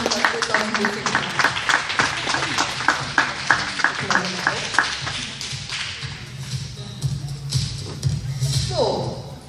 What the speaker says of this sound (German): wir verabschieden den Erwachsenenkader mit einem kräftigen Applaus